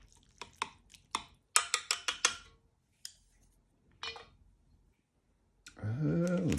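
Sichuan sour and spicy vermicelli noodles being stirred in a bowl, a close series of quick clicking, scraping utensil taps in bursts with pauses, then a low murmur at the end.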